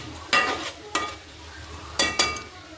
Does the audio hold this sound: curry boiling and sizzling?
yes